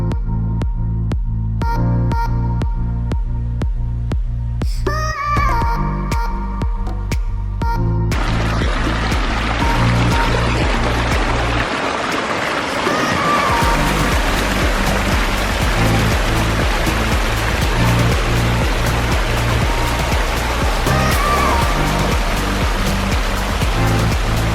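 A backyard pond's double waterfall water feature rushes and splashes steadily, loud and close, a continuous wash of falling water with no voices.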